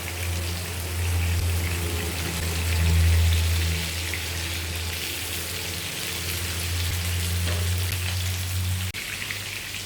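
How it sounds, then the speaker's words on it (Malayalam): Chicken pieces frying in oil on high heat for a Mughlai chicken dish, a steady, dense crackling sizzle that holds constant and fairly loud, with a low hum beneath and no talking. "അതിനകത്തോട്ട് നമുക്ക് കോഴി കഷ്ണങ്ങളിട്ട് ഫ്രൈ ചെയ്ത് എടുക്കണം"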